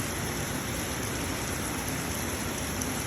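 Heavy rain pours steadily at 308 Highland, a dense, even hiss with no breaks and no voices.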